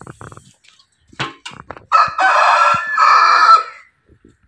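A free-range village rooster gives a loud, close crow in two long rising and falling phrases, preceded by a few short clucks and scattered clatter.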